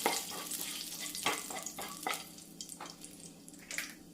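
Whole spices (cardamom, fennel seed, cloves and cut bay leaf) sizzling in hot ghee for ghee rice while being stirred, a close, soft frying crackle with several scraping stir strokes over a few seconds.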